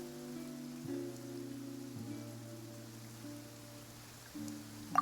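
Soft, steady rain patters on surfaces in the video game Genshin Impact, a faint hiss running beneath sustained, shifting musical tones, with no speech.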